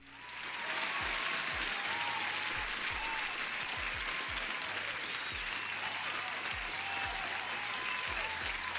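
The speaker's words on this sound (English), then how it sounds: "Applause for you." Steady applause from a crowd fills the whole stretch, dense and even, with a low thumping pulse running underneath.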